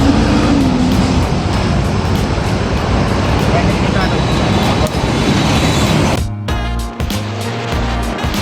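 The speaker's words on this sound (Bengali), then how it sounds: "এই হলো শিলিগুড়ির পথ, শিলিগুড়ি থেকে কলকাতা যাওয়ার রাস্তা, এটা হাইওয়ে।" Steady roar of highway traffic on the Siliguri to Kolkata road, heard from a moving vehicle, with a continuous loud rumble and wind noise that shifts abruptly near the end.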